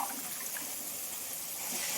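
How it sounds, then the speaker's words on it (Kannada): Water poured into a pot of rice for soya biryani in a home kitchen, a soft continuous splashing gush that lasts a couple of seconds, close and fairly quiet. "ನೀರು ಹಾಕ್ತಾಯಿದ್ದೀನಿ."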